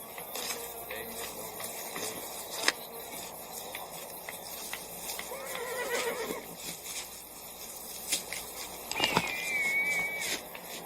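Horses in a western frontier setting, with a horse whinnying clearly near the end over a low outdoor background, faint hoof clip-clop and scattered rustling earlier on.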